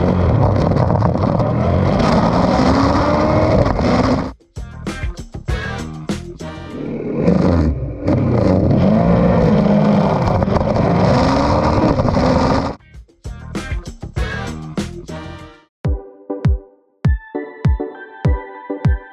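Kawasaki Versys 1000 touring motorcycle being ridden, a loud engine roar with rising and falling revs and wind rush, broken by abrupt gaps and short bursts near the end.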